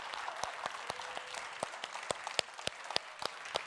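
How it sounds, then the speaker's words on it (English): A town hall audience gives an enthusiastic round of applause, a steady patter of many hands with sharper individual claps popping out, heard at moderate distance without speech. "we're going to start with a very loud, very raucous, very enthusiastic round of applause"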